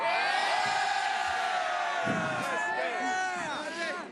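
High school football crowd cheering and whooping for the quarterback after the game, with many overlapping shouts and yells, loud and sustained with some chatter mixed in.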